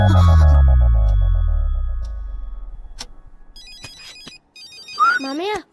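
A mobile phone ringtone plays a bright electronic melody with beeping tones and rising chirps in an indoor comedy scene, following a fading low hum and a string of sharp ticks and clicks.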